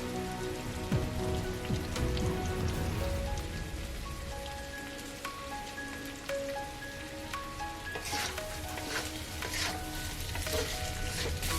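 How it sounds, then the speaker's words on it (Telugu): Chili powder fries in oil for chicken biryani, a continuous crackling sizzle with repeated scraping strokes of a spoon stirring the pan, close and steady throughout. "శుభ్రంగా కలిపేసి కారం కాస్త నూనెలో ఫ్రై అయ్యాక చూసారా, కారం వేయగానే నూనె లాగేస్తుంది"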